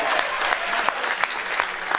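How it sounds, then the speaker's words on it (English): Steady applause from a comedy show audience, dense and continuous clapping with a few sharper claps standing out over two seconds. "A round of applause for video games"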